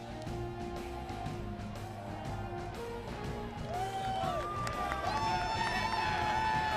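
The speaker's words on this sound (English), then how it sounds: "The enthusiasm of the crowd is very evident and will be for 9 innings." Crowd noise at a baseball stadium during a Dominican Republic versus Venezuela game, a steady roar of cheering spectators with whistles and horn-like calls rising over it, while a commentator talks.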